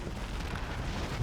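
A particle cannon super weapon strike in the game Generals Evolution lands as a dense, rumbling explosive roar, filling a brief burst with low booming noise and no talk.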